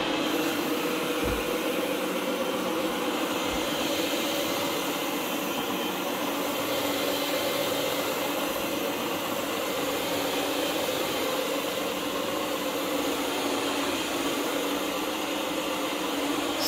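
Steady broadband whooshing roar of a vacuum running over carpet, continuous and fairly close, with no talking.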